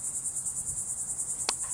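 Cicadas in Florida, males giving their mating call, fill the air with a steady, loud high-pitched buzz that pulses gently, with a brief sharp click near the end.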